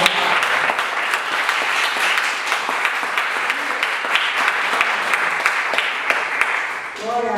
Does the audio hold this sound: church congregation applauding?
yes